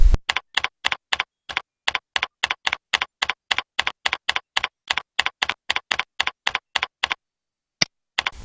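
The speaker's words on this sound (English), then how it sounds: "Type in the correct email address" Fingers typing an email address on a computer keyboard, a rapid steady run of crisp close key clicks that stops, followed by one last isolated keystroke.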